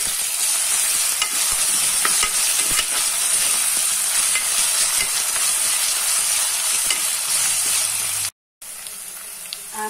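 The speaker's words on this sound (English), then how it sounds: "Now we will add ginger garlic paste. We will fry this for 1 minute." Ginger garlic paste fries with golden fried onions in a hot pan, a loud continuous sizzle and hiss with faint stirring scrapes, then a brief cut to silence before the sizzling resumes.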